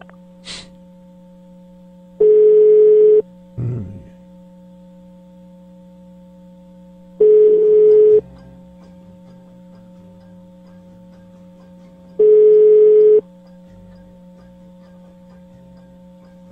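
A telephone busy signal sounds through the line during an attempted call: three evenly spaced, steady tones about a second long each, loud and clean over a faint hum, with no voices.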